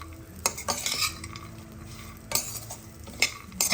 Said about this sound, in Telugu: బాగా ఫ్రై అవ్వాలండి, అప్పుడే కదా మనకి క్రంచీగా ఉంటుంది